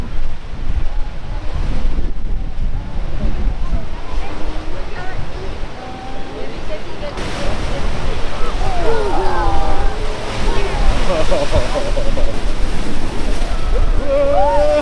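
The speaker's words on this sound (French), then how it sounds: "il y a des vagues, hein, marée haute" Big storm waves crash and roar continuously at high tide while strong wind buffets the microphone, and a person talks intermittently over the surf.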